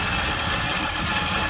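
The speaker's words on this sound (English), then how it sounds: "It's ticking over at around about 6 to 650 revs." A 1975 Ford Ranchero engine idles slightly low in automatic, ticking over at around 600 revs, with a steady, continuous rumble and faint vibration close by and no talking.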